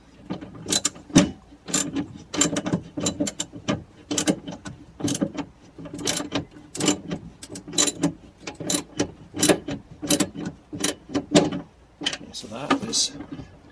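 A ratchet tightening bolts on a steering assembly, with rapid bursts of clicking strokes repeating in quick rhythm throughout, close and fairly loud, with some speech mixed in.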